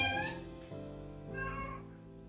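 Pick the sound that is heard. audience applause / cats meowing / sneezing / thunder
cats meowing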